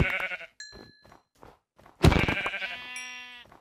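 Sheep in the video game Minecraft bleat in short wavering calls, a few faint ones early and then a louder, longer bleat near the end, heard alone with no talking.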